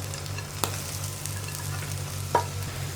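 Okra goes into a pan of ivy gourd stir-frying for mezhukkupuratti, giving a steady soft sizzle broken by a couple of sharp clicks from the pan.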